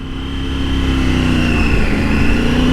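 A Tigress motorcycle hums steadily from the rider's position while on the move in cold weather, its loud, even drone rising slightly in pitch with wind noise underneath.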